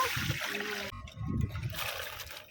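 Water poured into a wok for boiling water lily stems, a short splashing trickle that breaks off and then resumes, heard close and fairly quiet.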